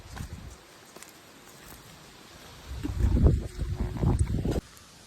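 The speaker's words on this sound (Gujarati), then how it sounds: "પવન એટલો બધો છે" Strong wind buffets the microphone, a low gusty rumble that swells loudly through the middle before dropping away abruptly.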